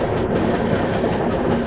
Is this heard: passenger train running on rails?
yes